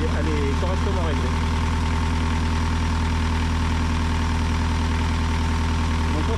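A Yanmar 4JH marine diesel engine idles steadily at close range, its low, even throbbing running unbroken throughout, with faint voice-like sounds briefly over it near the start and end.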